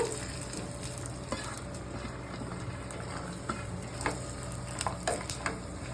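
Curry leaves, chilies and peanuts frying in oil for pulihora tempering, a soft continuous sizzle with scattered sharp crackles and spatters toward the end, fairly quiet and with no voices.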